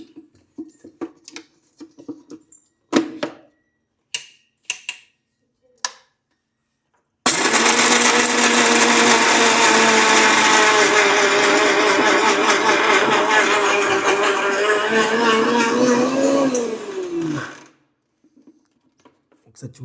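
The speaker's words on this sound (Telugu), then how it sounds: "మిక్సీ పట్టుకుంటున్నానండి." A mixer grinder blends a garlic and green chilli chutney, whirring loud and continuous for about ten seconds before winding down, preceded by clinks and handling noises and a brief voice.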